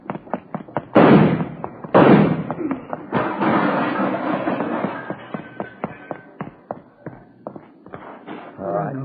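Gunshots in a radio crime drama: two loud, sharp blasts about a second apart, each followed by a brief ringing tail, then a scatter of quieter knocks and thumps.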